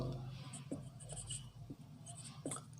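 Chalk or marker strokes on a board during a Bangla language class, with a few short scratchy taps, faint and near, and a quiet voice now and then.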